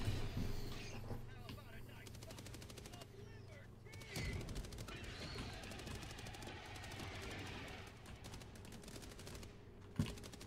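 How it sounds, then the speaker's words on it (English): An automatic turret in the video game Hytale fires at enemies, with rapid bursts of clattering shots running throughout alongside a sharp crack near the end, as players talk over the gunfire. "Yo, turret's going crazy. Turret's doing work."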